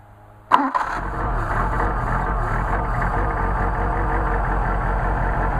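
A Solex moped engine starts on choke with one sharp catch, then settles into a steady, loud, close buzzing idle with a fine regular pulse that carries on to the end, with no talking.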